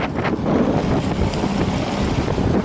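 A light motorboat with a 50 HP outboard runs over choppy waves on Zegrze Reservoir, giving a loud, steady rush of engine, spray and wind buffeting the microphone, with no talk.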